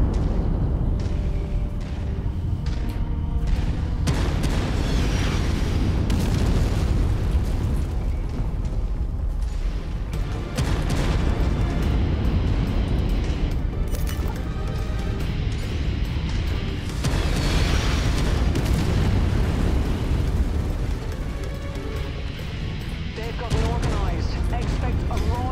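Dense, continuous in-game explosions and gunfire from bombing runs in the mech combat game MechWarrior 5: Mercenaries, loud and sustained with repeated booming bursts throughout.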